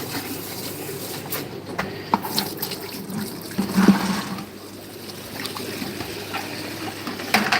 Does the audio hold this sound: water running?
yes